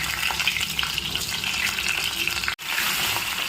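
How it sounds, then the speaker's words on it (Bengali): Boiled potatoes frying in hot white oil for Bengali-style Kashmiri aloo dum, a steady close bubbling sizzle that drops out abruptly for a moment near the end, then resumes. "তো আমরা এই সেদ্ধ করা আলুগুলোকে একটু ভেজে নেব"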